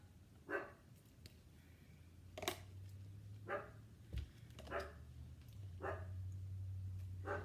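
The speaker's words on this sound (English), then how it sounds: "Lately she's just been barking." A dog barks several times in short, separate bursts over a low steady hum, fairly quiet and somewhat distant.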